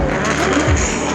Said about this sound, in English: Cars firing up, no catalytic converters.